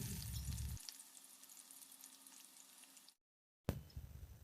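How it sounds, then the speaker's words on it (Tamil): Onions and whole spices, including mace, frying in hot oil for egg biryani give a steady close sizzle, broken by a brief silent gap before the crackle returns. "ஸ்பைசஸ் எல்லாம் பொரியும் போதே வெங்காயத்தை நம்ம சேர்த்துக்கலாம்."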